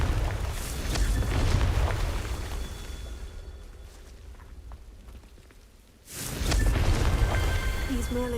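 A blasting-curse explosion in the Hogwarts Legacy game, a loud booming blast with a rumbling, crackling tail that cuts out abruptly, then another burst of noisy debris-like roar returns.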